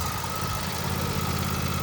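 A tractor engine idles steadily and fairly loud at close range with a constant low rumble and vibration, with no talking.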